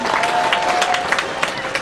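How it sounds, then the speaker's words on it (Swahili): Congregation applauding at a Catholic ordination ceremony for deacons, a burst of clapping from a crowd that runs throughout, mixed with voices over it. "makofi kwa kazi nzuri"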